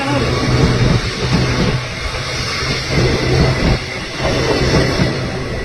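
A train rolls through a railway station with a loud, steady rumble and rattling wheels on the track, close by and unbroken.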